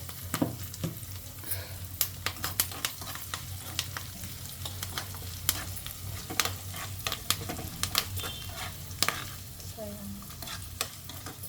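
Curry leaves and asafoetida fry in hot oil for katte pongali, a steady sizzle broken by sharp crackles and pops and occasional spoon stirs against the pan.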